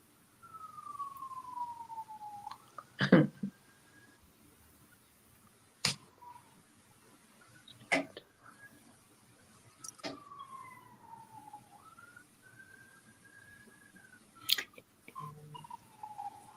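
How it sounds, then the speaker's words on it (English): A faint siren wails in the distance, its tone sliding down in long sweeps, broken by several sharp, loud clicks and knocks close by. "It's a siren."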